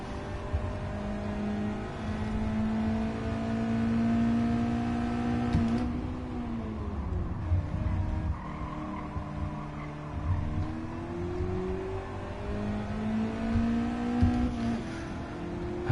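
Race car engine in Gran Turismo 7 at Tsukuba, a steady loud drone whose pitch climbs and drops with repeated revving through the gears, with no talk over it.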